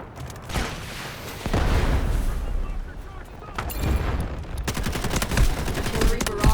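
Heavy gunfire and booming blasts from the Delta Force Hawk Ops battlefield build into a loud, sustained barrage, with a player's voice shouting over the shooting.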